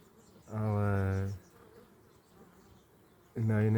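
Honeybees busy at a hive on a hot summer day, with two loud, close buzzing passes as bees fly right by, over a faint background hum of the colony.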